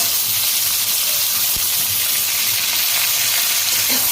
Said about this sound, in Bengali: শুকনো লঙ্কা ফোড়ন